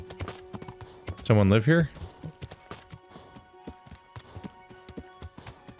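Horse hooves clop steadily in Kingdom Come: Deliverance, a continuous close rhythmic trot running under a man's brief spoken question and a short loud vocal burst.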